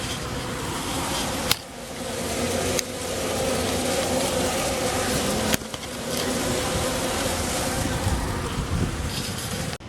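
Honeybees in an opened hive, a dense close humming buzz that fills the whole stretch with steady loudness, broken by a few sharp knocks of handled equipment, no talking.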